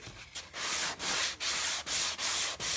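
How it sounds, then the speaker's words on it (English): Repeated strokes of 180 grit sandpaper rubbing over a painted fabric chair, five or six steady back-and-forth passes with brief pauses between them, close and fairly loud, with no talking. "I'm using a 180 grit sandpaper right now"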